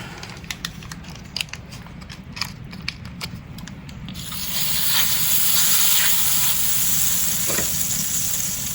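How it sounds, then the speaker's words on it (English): Burger buns toasting in butter on a hot griddle, with light clicks and taps early on giving way to a loud, steady sizzling hiss that holds for several seconds. "We're going to toast our buns first with a little bit of butter"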